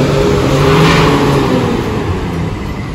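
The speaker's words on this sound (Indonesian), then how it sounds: "Knalpot balap." A Nusantara bus with a racing exhaust revs at a bus terminal, its loud, steady engine roar holding close and continuous for the whole stretch with a slight swell partway through.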